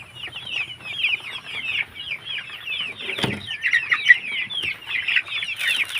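Hungry chickens being raised for egg-laying cluck and squawk in a dense, continuous chorus, with a brief burst of wing flapping midway and more flapping toward the end.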